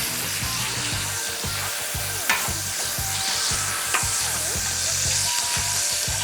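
Skirt steak sizzles on a hot grill with a steady, close hiss, while a soft rhythmic thumping pulses underneath throughout.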